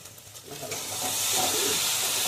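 Steady frying hiss builds and holds, a close crackle of spice paste sizzling in hot oil for a fish curry, with occasional stirring scrapes, no voices.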